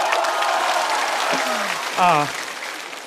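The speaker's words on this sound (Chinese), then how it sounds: "这个商务值得一个掌声" Audience clapping at a stand-up comedy show, a dense sustained wash of applause under someone speaking briefly, fading slightly toward the end.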